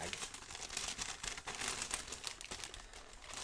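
A candy-striped gift bag being opened up close, with dense continuous crinkling and rustling of paper for a few seconds, fairly loud and steady with no talk over it.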